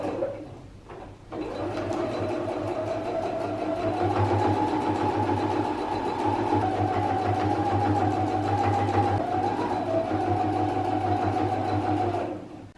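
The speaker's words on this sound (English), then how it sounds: "Sew that down, and we'll do that also for the other side." A sewing machine stitches the seams of a quilted vest made from pillowcases, running steadily and close for about ten seconds after a brief start, with a constant motor hum and rapid needle chatter.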